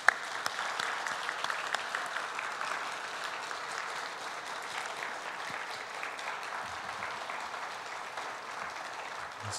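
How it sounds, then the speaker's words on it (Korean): Church congregation at a Sunday worship service giving a long, loud round of applause to honour fellow workers: dense, sustained clapping from many hands, steady throughout without pause. "이 시간 함께 지금까지 교회를 섬겨온 동역자들에게 10초 동안 크게 박수로 축복해요."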